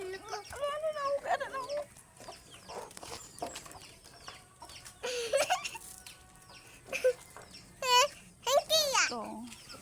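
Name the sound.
chickens of various breeds clucking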